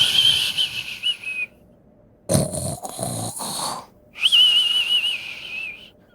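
A voice imitates a guard snoring on a toilet, with drawn-out whistling inhales and rough snorting exhales repeated in a slow rhythm, close and loud with no other talk.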